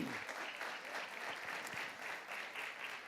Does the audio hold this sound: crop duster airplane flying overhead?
no